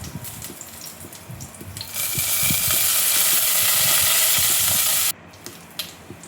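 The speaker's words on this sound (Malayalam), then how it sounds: "ഇതെല്ലാം കൂടെ മൂത്ത് വരുന്ന സമയത്ത് കുറച്ച് കറിവേപ്പില അതുകൂടെ ഒന്ന് ഇട്ട് കൊടുക്കാം" Dried red chillies and curry leaves crackle in hot oil, a close sizzle that jumps louder and brighter when the leaves drop in, then cuts off abruptly, followed by a few soft clinks.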